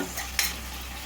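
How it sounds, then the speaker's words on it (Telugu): Onions sizzle softly in a pan for a radish curry while a spoon stirs them, one quick scrape standing out over the low, steady frying hiss, close and quiet. "కొంచెం అయితే వేగిందండి ఉల్లిపాయ కూడా సరిపోతుంది"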